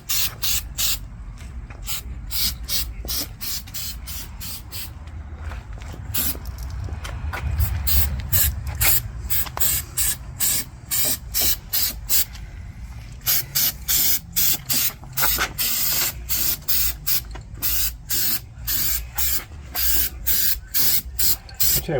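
Bed liner coating sprayed onto plastic trim panels of a Suzuki Grand Vitara, a close hissing spray in long bursts that become short, regular pulses toward the end.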